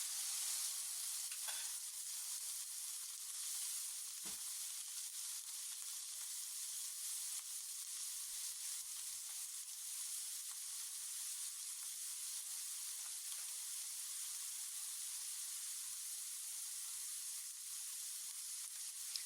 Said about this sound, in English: appreciate the sound of meat searing in a hot cast iron